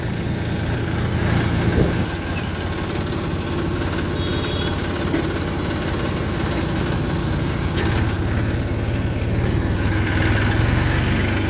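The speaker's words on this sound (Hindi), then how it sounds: "आगे विकास भाई का फोर्ड जा रहा है जी" A modified, repainted Ford tractor engine runs steadily throughout, a loud, continuous low rumble with a slight rise in intensity near the end.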